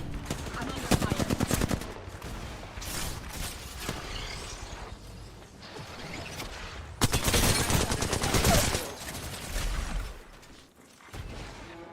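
Rapid bursts of video game gunfire, loud and near, come in dense automatic volleys with whooshes and mechanical clicks between them, over a continuous game soundscape.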